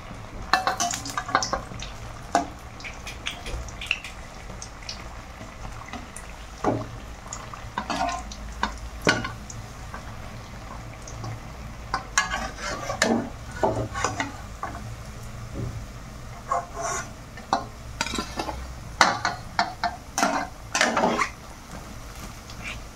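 Singaras (samosas) frying in oil until brown, a soft continuous sizzle beneath repeated clinks and scrapes of a utensil stirring in the pan, close and fairly quiet, with no talking.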